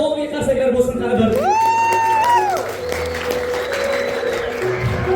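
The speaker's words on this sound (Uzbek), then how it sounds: "davomiy qarsaklar bo'lsin" Sustained applause from the audience at a music school concert in Yangiyer, a dense steady wash of clapping held for several seconds, with a few rising tonal whoops or calls cutting through near the middle.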